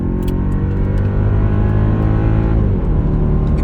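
A Mercedes-Benz CLS55 AMG accelerating hard, its engine roaring loud and close with a steady, dense drone that holds throughout and shifts pitch slightly near the end.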